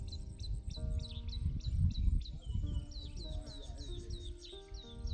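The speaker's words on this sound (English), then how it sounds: "all I hear is these birds." Birds sing outdoors at a plantain farm site in Ghana, repeated bright chirping phrases over a low rumble of background noise, with insects faintly audible.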